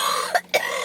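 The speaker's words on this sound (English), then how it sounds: "I have a cough." Two short, dry coughs in quick succession, close and clear, with a brief pause between them.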